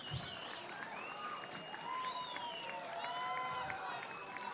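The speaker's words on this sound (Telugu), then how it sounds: "ఒక్క రౌండ్ చప్పట్లు గట్టిగా" A crowd at an International Disabled People's Day event applauds louder to welcome the chief minister, sustained clapping swelling toward the end with cheers, whistles and overlapping voices above it.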